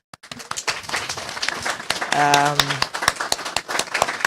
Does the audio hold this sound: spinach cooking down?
no